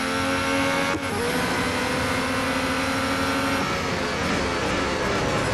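Formula 1 race cars in Real Racing 3 at the British Grand Prix accelerate in a loud, continuous high-pitched engine whine, several cars droning together with steady revving throughout.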